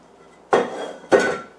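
A spoon clanks twice against a dish while cheesecake mixture is scooped onto a pecan pie cheesecake crust, two sharp close knocks about half a second apart with quiet between.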